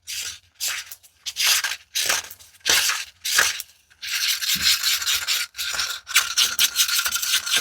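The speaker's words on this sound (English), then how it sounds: "scrape the sides here. You see that powder on there? It's got to come off." A tool scrapes dried powder off the sides of a Christmas ornament coated with polycrylic, in close, repeated rasping strokes, short bursts first and then a longer continuous stretch of scraping.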